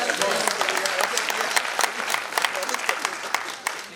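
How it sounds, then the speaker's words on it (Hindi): Loud, sustained applause from the audience at a founder's day celebration, dense clapping filling the whole stretch with a steady roar and no gaps. "इसके लिए जोरदार तालियां सभी।"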